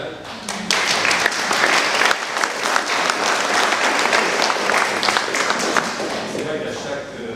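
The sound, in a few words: audience applause at a conference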